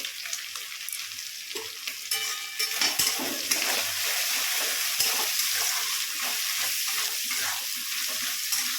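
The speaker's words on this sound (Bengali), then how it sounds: "এবার আমি সব ভেজে নেব" Chicken, egg and spices sizzle and crackle steadily in a hot pan, close and fairly loud, with occasional scraping stirs and clinks.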